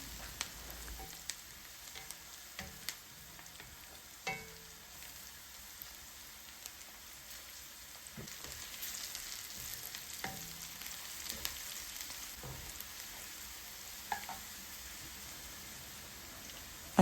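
Onions frying slowly over a low flame for chicken tikka masala, a steady soft sizzle running throughout with occasional stirring clinks and scrapes, close and moderately quiet, no talking.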